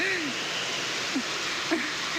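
Heavy rain pouring steadily over a village, a dense broadband hiss that stays constant throughout, with a few faint background voices or bird-like chirps poking through.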